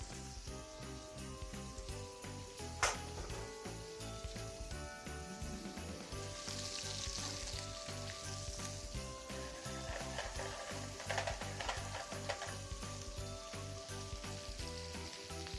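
Steak sizzling and frying in a hot pan, a steady crackling hiss with scattered pops and a metallic clink, close and moderately loud with no talk.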